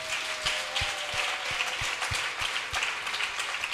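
Church congregation clapping together in steady applause, a dense wash of hands with regular rhythmic beats, sustained and fairly distant throughout.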